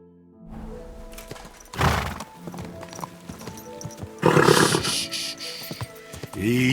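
Hooves clip-clop along as a horse snorts and whinnies in the video game Kingdom Come: Deliverance II, the sounds loud and close against a busy, game-like background.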